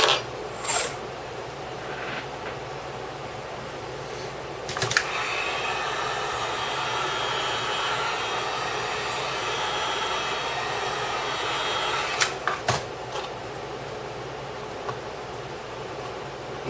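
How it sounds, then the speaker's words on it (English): Regular heat gun blowing hot air on its second speed setting while loosening a laptop screen bezel, a loud steady close-up roar with brief bumps and clicks near the start, middle and end, and no talking. "I'm using the heat gun on the second speed"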